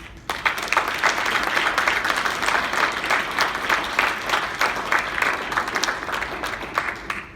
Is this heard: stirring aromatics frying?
no